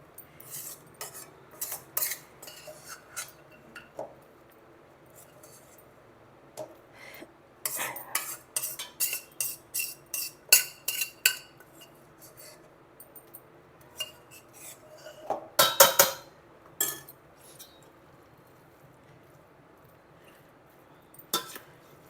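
A spoon stirs amla paste into cooked rice in a metal pot for amla pulihora. Scraping and clinking strokes come in irregular bursts between quiet pauses, close up, with no talking.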